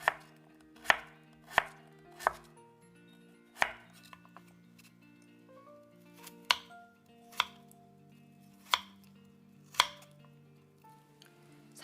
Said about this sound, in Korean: 어리굴젓에 들어갈 무는 이렇게 잘게 썰어줘야 됩니다